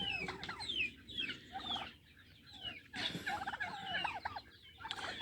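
Several turkeys gobble in rapid, warbling bursts, with clucking fowl chattering around them at moderate distance.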